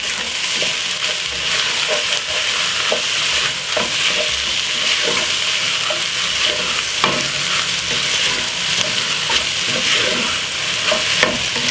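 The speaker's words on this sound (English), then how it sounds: "Give it a good stir." Jerk-seasoned pasta and mixed vegetable stir fry sizzles loudly in a pan while a utensil scrapes and stirs it in repeated strokes, close and continuous.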